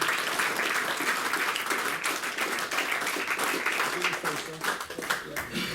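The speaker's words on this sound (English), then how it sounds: "Big round of applause" Sustained applause fills the room for a fighter at a professional K1 kickboxing weigh-in, a continuous wash of clapping at steady loudness with voices audible underneath.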